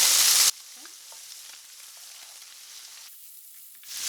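Turkey and bacon bits drop into hot olive oil with a loud burst of sizzling, which settles into a quieter, steady frying hiss and then swells again briefly at the end.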